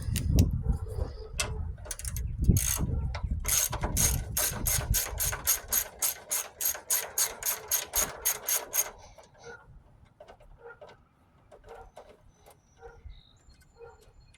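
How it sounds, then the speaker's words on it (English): A small ratchet with a 10mm socket loosens a bolt on a 2007-2012 Nissan Altima during a motor mount replacement, giving close, loud bursts of rapid clicking, then a long steady run of strokes before fainter clicks fade out. "We're just going to take our small ratchet and a 10mm socket."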